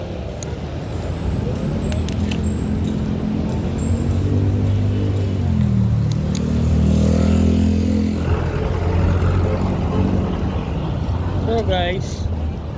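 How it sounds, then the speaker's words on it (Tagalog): Steady road traffic with motorcycles and cars, a continuous loud rumble of engines and tyres close by, swelling as vehicles pass, with a horn-like tone early on and a brief chirp near the end. "Traffic."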